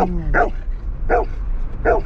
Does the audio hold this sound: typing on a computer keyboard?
no